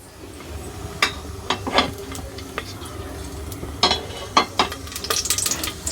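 Onions fry in hot oil in a pan for a simple bachelor's biryani, a soft sizzle under intermittent clanks and scrapes of a stirring utensil against the pot.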